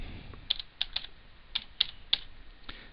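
Typing on a computer keyboard while entering network configuration commands, with about eight crisp, separate keystrokes in an irregular rhythm, close and fairly quiet against a faint background hiss.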